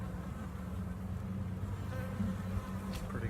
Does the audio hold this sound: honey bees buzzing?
yes